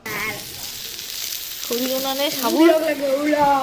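Sago khichuri frying and sizzling in a pot on a rooftop wood-fired clay stove, a steady hiss with someone talking over it partway through.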